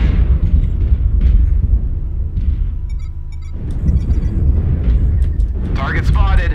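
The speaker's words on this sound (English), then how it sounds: "Warning, incoming missile." A missile explodes in a BattleTech-style mech combat game during an assault, a loud sustained rumbling blast with booming low-end bursts, while radio-style voice callouts play over it.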